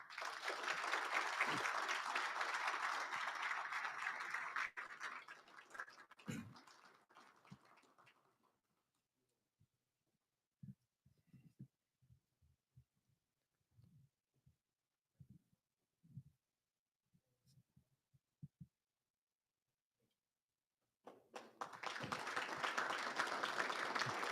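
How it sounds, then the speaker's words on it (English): Audience applause at the 2023 Marine Corps Association Wounded Warrior Leadership Awards ceremony: a long, full round of clapping fades out, a quiet stretch follows with scattered faint thumps, then a second burst of applause swells up near the end. "Please join me in a round of applause."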